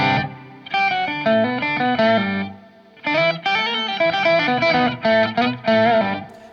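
Electric guitar through a POG octave pedal, adding an octave shimmer to a run of chords and notes played in two bursts with a short pause between.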